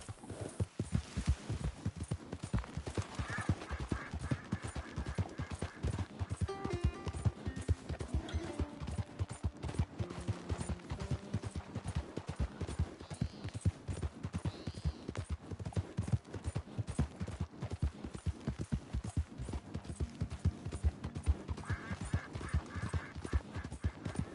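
Horse hooves gallop in Red Dead Redemption 2, a steady rapid clip-clop rhythm running the whole time at close range, with occasional whinnies and faint game music behind them.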